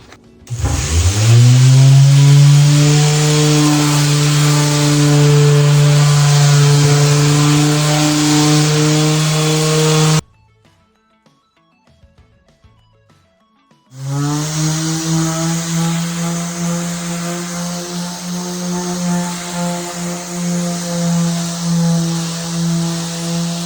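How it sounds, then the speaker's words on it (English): A power sander with 80-grit paper sanding wood drones loudly and steadily, stops for a few seconds of near silence, then starts up again with a slightly wavering whine. "we're going to start with the 80 grit sanding"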